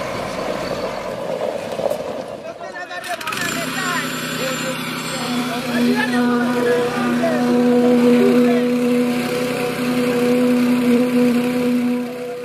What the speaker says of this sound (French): Le bruit constant des bulldozers, des camions et des pelles mécaniques rythme le quotidien des habitants qui vivent à proximité.